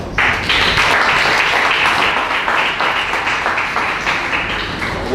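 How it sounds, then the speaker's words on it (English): Audience applause at a celebration marking 45 years of a refugee-support organisation in Uganda: dense, steady clapping from a sizeable crowd starting almost at once and sustained at full strength throughout. "we need to accord them a round of applause"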